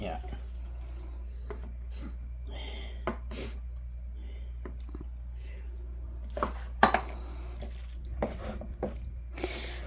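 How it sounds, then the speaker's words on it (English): Ingredients being mixed in a bowl in a home kitchen, with soft scraping and occasional clinks of utensil on dish under near-constant conversation and a low background hum. "I'm going to do my mixture up in the bowl before I put it in a dish"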